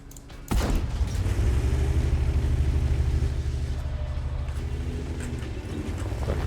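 Tank cannon fired by a bot in a tank video game, one sharp heavy boom that rolls into a long low rumble beneath a steady engine drone.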